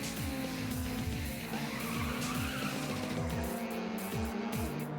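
Cars drifting in Ridge Racer Type 4, with repeated tire squeals sliding over a droning racing engine, loud and continuous with rising and falling squeal sweeps.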